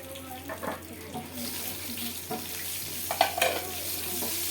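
Mustard seeds crackle and sizzle in hot oil with a steady hiss, punctuated by sharper pops and bursts that grow livelier toward the end, fairly close, with faint background talk.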